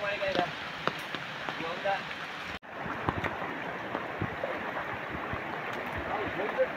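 Risen floodwater rushes and churns in a continuous broad roar, with a brief cut midway, and voices speak over it.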